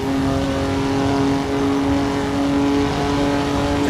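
Formula 3 race car engine in Assetto Corsa on the Südschleife circuit, held loud and close at high revs in third gear, a sustained tonal drone with only a slight dip partway through and no talking.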